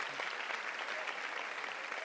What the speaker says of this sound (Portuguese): Você pode dar mais palmas para essa turma toda aí?